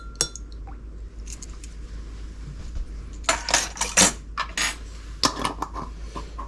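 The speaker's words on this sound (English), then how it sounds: "Maybe give it a little stir." A utensil stirs in a bowl during pizza preparation next to a blue terracotta fish pizza oven: several bright clinks and scrapes in short clusters over a quiet background.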